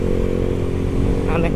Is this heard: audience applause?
no